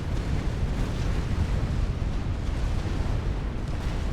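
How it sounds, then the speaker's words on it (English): Continuous heavy rumble of artillery fire and explosions in a Supreme Commander 5v5 battle on the Hallnac map, dense low booms blending into a steady roar with no clear gaps. "And the artillery, very much still alive, ruins those defenses"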